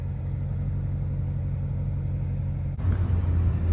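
A BMW E66 750Li with the N62B48 V8 engine runs at a steady low rumble. Near the end the sound shifts and grows louder and rougher, with a deeper drone.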